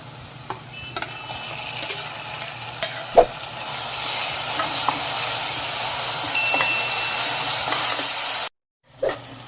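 Onions frying in oil for pudina rice as ground masala goes into the pan, giving a loud constant sizzle with occasional stirring clinks and scrapes, cut by a brief silence near the end.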